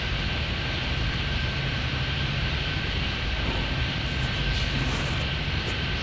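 A fixed-wing airliner's engines roar in a broad, steady rumble at Chicago O'Hare International Airport, constant and moderately distant throughout, with no talk audible.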